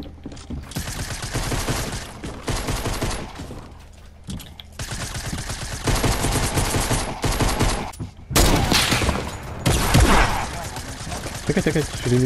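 Shotgun and other gunfire in a battle royale match: repeated loud bursts and sharp blasts in clusters with brief pauses, while players talk over the shooting.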